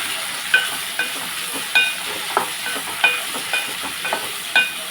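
Ivy gourd fry with coconut chili powder is stirred in a pan, a soft steady sizzle with repeated scraping spatula strokes at an irregular rhythm, close and moderately loud.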